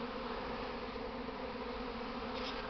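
A honeybee swarm leaving the hive on a warm, sunny, calm spring day fills the air with a dense, steady drone of countless wings, continuous and loud throughout with no voices.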